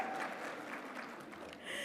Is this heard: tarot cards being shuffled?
no